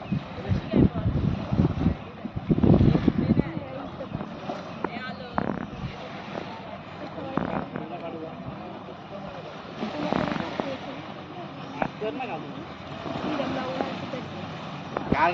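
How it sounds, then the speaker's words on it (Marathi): Gusty wind buffets the microphone beside the ferry boat at Dabhol on the coast. Strong bursts come and go, a faint boat engine runs low underneath, and people talk in the background. "दाबोल फेरीबोट येते आणि बघा फेरीबोट आलेले आहे"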